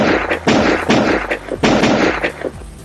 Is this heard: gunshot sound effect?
yes